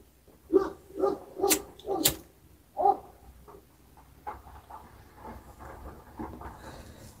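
A dog barks about five times in quick succession, sharp and fairly close, then goes quiet, leaving faint background murmur with no talking.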